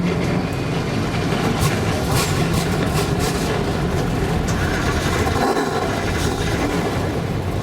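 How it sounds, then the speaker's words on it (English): NASCAR race cars fire up their engines together on a Kentucky speedway, a loud, dense, continuous mechanical roar that fills the whole stretch without letup. "Drivers, start your engines."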